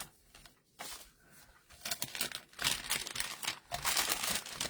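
A paper envelope from a card-making class kit is handled and torn open up close, with steady crinkling and rustling that builds into louder tearing bursts and no talking.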